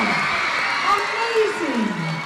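Schoolchildren and a crowd at Sherwood Park school cheer and whoop after a large check presentation, a loud, continuous mass of shouting voices.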